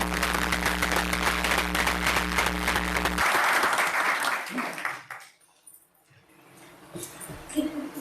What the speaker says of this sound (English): If we could give a round of applause to Mr. G's for always supporting our program.